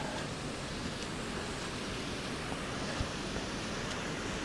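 Waterfall on Naden Brook in Ashworth Valley, a steady broadband rush of falling water heard from nearby, constant and even throughout with no voices.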